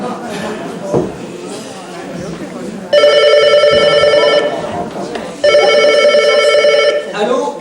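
A telephone rings at a cosmetic surgery clinic in two long electronic bursts, loud and close, after a moment of indistinct talking.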